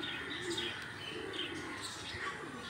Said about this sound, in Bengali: এখানে রয়েছে কবুতর